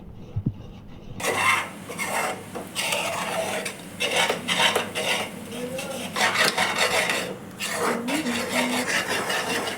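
A spoon stirs milk-powder khoa thickening in a heavy pan over medium heat, making continuous close scraping and rasping strokes in an uneven rhythm, with light background noise.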